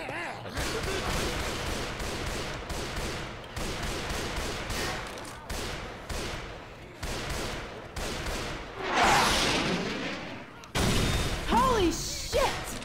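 Video game firefight with rapid bursts of gunfire and explosions, dense and continuous with short breaks, a big blast swelling near the end, with a player talking over it.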